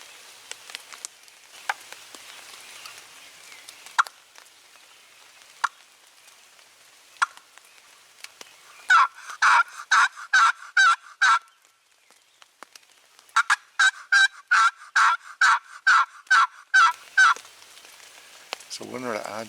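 Box call yelping imitates a wild turkey in spring woods, two loud runs of rapid, evenly spaced yelps, about eight to ten notes each, with scattered faint clicks and quiet pauses between.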